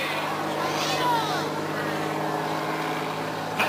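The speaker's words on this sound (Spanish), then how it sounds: "Torque Raúl colgando de la hélice." Propeller aircraft engine drones loudly and steadily through an aerobatic display at the EAA airshow, with shifting pitch as the plane maneuvers; a crowd murmurs faintly beneath.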